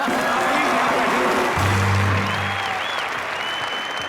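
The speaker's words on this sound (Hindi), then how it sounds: "एक बार शाहिद भाई के लिए जोरदार तालियां।" A television comedy show studio audience applauds loudly for actor Shahid, a dense, sustained roar of clapping, with a brief voice and musical tones sounding beneath it partway through.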